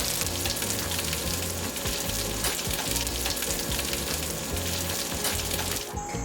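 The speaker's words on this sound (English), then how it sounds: "Now these pork chops will cook on one side for about 5 minutes" Pork chops sizzle loudly and steadily on a Blackstone griddle, an even crackling hiss that holds for several seconds with no voices.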